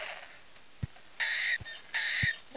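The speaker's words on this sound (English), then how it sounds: "It sounds like a bird." Bird calls from a video game: a few short, high, piping chirps separated by gaps, with faint low taps in between, fairly quiet and alone.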